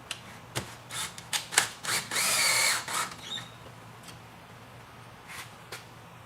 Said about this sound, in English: we're now going to run in our first screw.